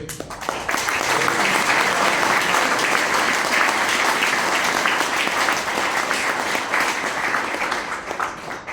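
Hall audience at a Hong Kong Sea School high-table banquet bursts into sustained, dense applause that holds at a loud, even level for the whole stretch before easing slightly at the end.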